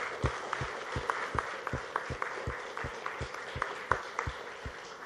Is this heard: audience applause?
yes